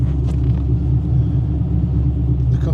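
A modified TVR Griffith 500 V8 engine idles with a deep, loud, steady rumble close by, its low burble constant and unbroken throughout.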